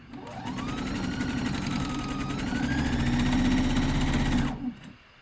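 A domestic sewing machine runs a continuous fast stitching burst while sewing a seam on lounge pants, steady and close for about four and a half seconds before stopping abruptly.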